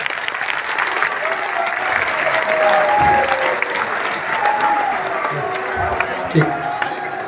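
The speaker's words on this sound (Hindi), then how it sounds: "सब लोग ताली बजाइए" Loud, sustained applause from a large crowd of saints and devotees at a Sanatan Dharma religious assembly, steady clapping filling the whole stretch with a slight swell in the middle.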